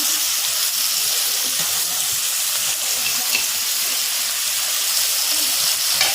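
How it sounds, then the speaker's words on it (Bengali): Shrimp sizzling in hot oil, a steady, loud, crackling hiss that continues unbroken from start to finish. "চিংড়ি মাছটা আমার ভাজা হোক"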